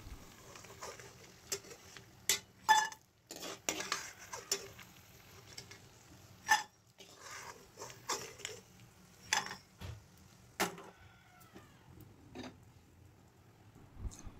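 Fried lentil dumplings (bori) scraped and lifted from a pan into another pot, giving scattered clinks, taps and scrapes of utensil on metal over a faint sizzle, with quiet gaps between the knocks.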